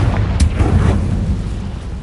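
A Confringo blasting spell in Hogwarts Legacy, one loud close burst with a booming low rumble that rolls on for about two seconds.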